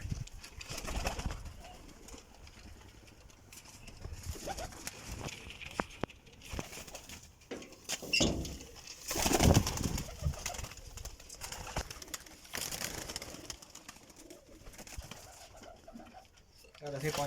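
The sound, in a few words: pigeons cooing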